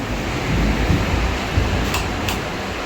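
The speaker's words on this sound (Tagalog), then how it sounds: "Dahil malakas ang ulan." Heavy rain at a resort construction site, a broadband rushing noise, steady and fairly loud, with a couple of brief sharp ticks near the end.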